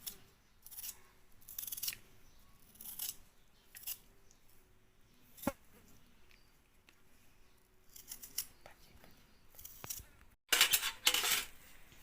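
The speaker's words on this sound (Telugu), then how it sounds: "ఆలుగడ్డలు నీట్గా వాష్ చేసుకున్న తర్వాత ఇట్లా పైన అంతా తొక్క అంతా తీసేసుకోవాలి ఫ్రెండ్స్" Washed potatoes being peeled before slicing into chips: a series of close, dry scraping and snipping strokes, some short and clustered, others scattered, with a sharper louder scraping burst near the end and no talking.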